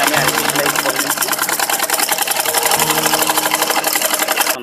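A sewing machine runs steadily, stitching a baby skirt in a rapid, even whir of needle strokes that stays close and loud throughout, with a brief slowdown partway through.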